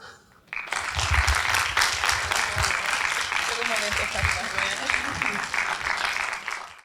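An audience at a literary talk on Coetzee's novel Disgrace breaks into sustained applause welcoming a professor to the front, a dense steady clatter of hands lasting several seconds with a few voices underneath before it fades out.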